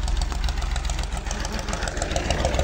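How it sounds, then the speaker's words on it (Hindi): A tractor engine idles steadily nearby, a loud, continuous rhythmic chugging with a heavy low-end throb and no talking. "ऐ जनाब साडा ट्रैक्टर आ गया"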